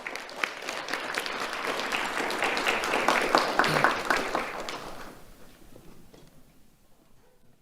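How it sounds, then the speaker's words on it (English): Applause from an audience honoring two elementary school students at a community awards ceremony, a broad steady clatter of many hands that swells, then fades away after about five seconds. "Let's have a round of applause for Kayla and Kiera."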